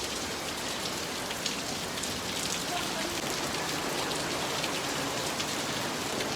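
Steady rain falls close by in a dense, continuous patter with no talk, the hiss holding even from start to finish.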